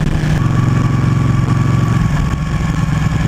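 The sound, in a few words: KTM Super Duke 1290 R V-twin motorcycle engine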